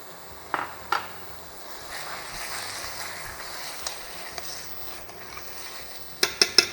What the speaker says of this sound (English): after we allow the mincemeat with the tomato sauce to cook a little bit for about 5 minutes